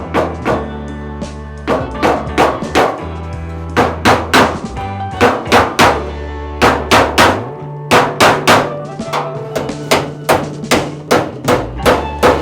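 Metal sliding door edge on a VW T3 van being folded over with a hammer, loud sharp blows struck in quick rhythmic bursts of two to four, close up and without talk.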